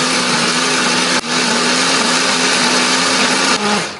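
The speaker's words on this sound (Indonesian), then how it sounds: "Ini bahan akan kita blender." A kitchen blender grinds candlenut, garlic, shallot, onion and turmeric into a paste, its motor a loud, steady whine that dips briefly twice, close up and alone.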